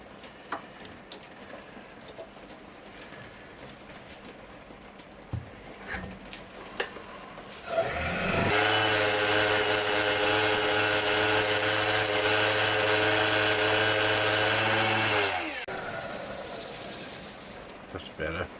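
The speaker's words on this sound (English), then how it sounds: "I just have to scrape that down a little bit more." A lathe spins with a steady motor hum and hiss while a scraping tool works down a wooden bowl. Quieter workshop sounds come before and after.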